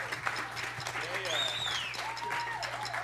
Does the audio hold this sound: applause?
yes